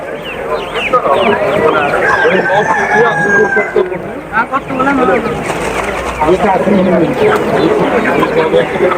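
Broiler chicks and chickens at a busy poultry market, a dense chorus of shrill peeping and clucking close by with a rooster-like crow mixed in and people talking in the background.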